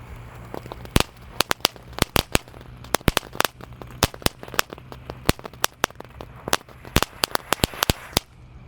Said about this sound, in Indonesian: Ada mercon tank. Ini tank yang ada rodanya, kita nyalakan malam ini.